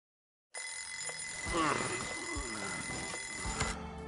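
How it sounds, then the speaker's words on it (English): An alarm clock rings in the video game Kaito Files, a steady electronic ringing that starts abruptly and continues loud and close throughout. "Wow, I even moved the alarm and everything."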